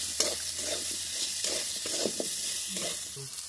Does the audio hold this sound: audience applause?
no